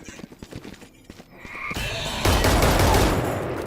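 Gunfire in the video game Valorant: a few sharp single shots at first, then a dense, loud burst of rapid automatic fire dominating the second half.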